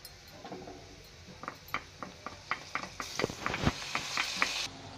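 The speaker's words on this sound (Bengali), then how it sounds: "পেঁয়াজগুলো দিয়ে আমরা একটু পেঁয়াজগুলো ব্রাউন কালার করে ভেজে নিব" Onions and spices frying and being stirred in a pan for a Bengali hilsa fish and taro stolon dish, a steady soft sizzle broken by a series of regular scraping and clinking strokes.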